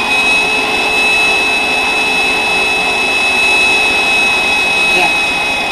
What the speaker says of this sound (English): and then turn on your vacuum cleaner.